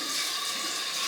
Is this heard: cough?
no